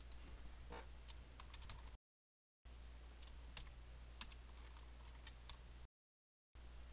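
Rapid typing on a computer keyboard while writing Java code, with irregular clicks and key taps over a low steady hum, broken by two short silent gaps.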